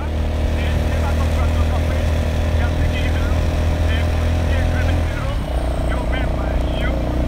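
A motorcycle rides fast through the streets of Pétionville, Haiti, in the morning, its engine droning loud and steady throughout, with the pitch shifting near the end.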